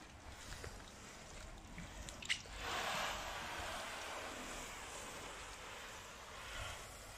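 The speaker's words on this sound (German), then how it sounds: "Ja, jetzt alles abspülen." Water sprays steadily while a freshly washed car is rinsed outdoors, a continuous hissing wash that swells after a brief pause and then holds at an even, close level with no talking.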